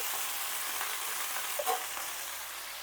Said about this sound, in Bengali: এবার শাকগুলো এতে দিয়ে দিচ্ছি এটার মধ্যে লাউ শাক আর পালং শাক একসঙ্গে মিশিয়ে রাখা আছে